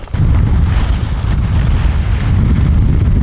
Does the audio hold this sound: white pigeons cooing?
no